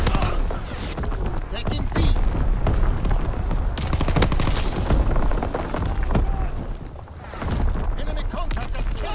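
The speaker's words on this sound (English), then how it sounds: "Incoming enemy artillery. Get to cover. Enemy bomb incoming." Heavy battlefield gunfire and explosive booms during an enemy artillery bombardment in Call of Duty WWII, loud and continuous with dense crackling shots, as a voice briefly speaks over the chaos.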